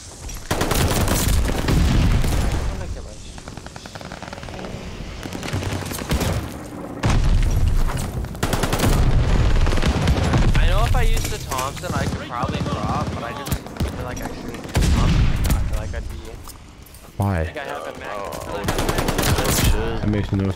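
Loud, dense automatic gunfire in Call of Duty Vanguard multiplayer, with rapid bursts, heavy booms and brief pauses repeating throughout a frantic match, with voices now and then underneath.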